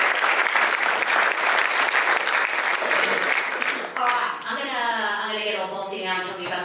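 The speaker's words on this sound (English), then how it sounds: "Give a huge round of applause for Nola." An audience gives a loud, sustained round of applause at the opening of a university thesis competition grand final, with the clapping fading as a speaker's voice takes over near the end.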